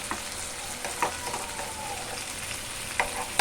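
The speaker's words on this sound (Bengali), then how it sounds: "এবারে একটু সর্ষেটা ভাজা হোক" Mustard seeds fry in a pan, giving a steady broadband sizzle with a few sharp crackling pops and clinks scattered across a few seconds, close and moderately loud with no talking.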